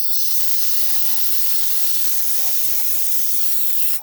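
A pressure cooker whistle blasts steam in a steady, loud hiss while chicken biryani cooks on a low gas flame, the broadband rush holding nearly unbroken for about four seconds before cutting off abruptly.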